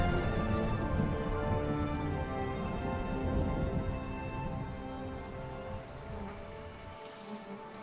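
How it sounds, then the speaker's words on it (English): Heavy rain pours steadily in an Age of Empires 3 cutscene storm at sea, a dense roar with low rolling thunder underneath, gradually easing slightly toward the end, with no voices. "it appears we will brave a storm before our arrival"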